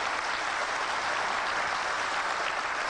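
Steady, full applause from a lecture audience, an even wash of many hands clapping at a constant level from start to finish, with no voices over it.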